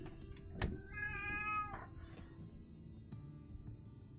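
A house cat meows at a door, one clear, drawn-out rising meow up close in a quiet room, with a sharp knock or thump just before it and light background noise.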